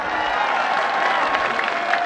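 Large crowd applauding at an Imran Khan political rally in Mianwali, a loud, continuous roar of clapping and crowd noise with no clear speech over it.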